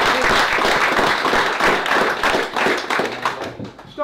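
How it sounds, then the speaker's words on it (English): A round of applause at an angling match presentation for the fisheries team at a commercial feeder fishing championship: dense, steady clapping from a gathered crowd, fairly close, fading slightly toward the end. "it's like a round of applause for the fisheries team"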